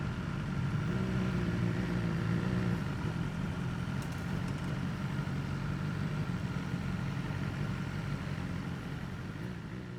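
A 2023 BMW S1000R motorcycle engine idles with a steady, low, even rumble, held constant and close throughout with no talking.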